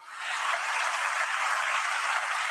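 Dense, sustained applause from a large audience for a performer at the opening ceremony of the Africa CEO Forum summit in Kigali, a steady even roar of many hands that fades in quickly and holds throughout.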